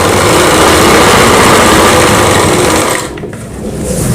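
A sewing machine runs in one steady, loud, close buzzing burst while stitching a Rajputi kanchali blouse, then stops briefly and starts again near the end.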